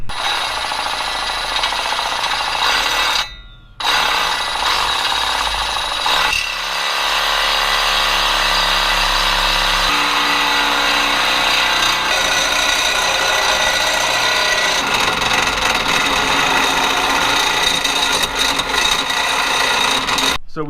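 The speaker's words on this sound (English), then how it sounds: "We did have to cut this. Shout out to the M12 Milwaukee little hacksaw thing." A Milwaukee M12 cordless hacksaw cuts through a DPF piece on a 6.7 Powerstroke diesel, its loud, steady reciprocating buzz running nearly nonstop, with one short pause early on and shifts in tone as the blade bites.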